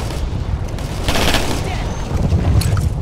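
Sustained gunfire from the war game Operation Flashpoint: Red River, with dense rifle and machine-gun bursts and booming impacts rolling continuously at close range, while voices speak under the battle noise.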